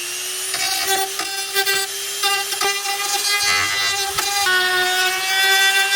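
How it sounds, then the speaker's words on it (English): A Dremel rotary tool cuts into a Jeep wheel with a loud, steady high-pitched whine, broken by repeated short bites and scrapes as the bit grinds the metal. "starting on the passenger side, let's just get to dremeling"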